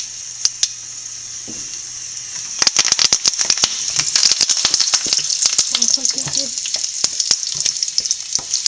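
Curry leaves dropped into hot tempering oil after the flame is turned off, for beetroot pachadi: a quiet start, then a loud, close burst of crackling and popping that keeps sizzling densely to the end.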